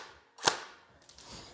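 A 0.5-joule airsoft gun fires at a person and the shot lands with one sharp, close snap. A fainter click follows a moment later in a quiet room.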